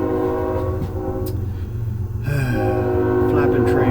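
A train passes close by at about two in the morning in Orange County, California, its horn sounding loud and sustained over the rumbling rail noise, with the blast swelling midway and running to the end.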